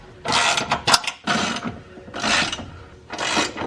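Screws being tightened by hand on the brackets of an OEM rock rail for a 2021 Ford Bronco, giving four close bursts of clicking, ratcheting mechanical noise separated by short pauses, with no talk.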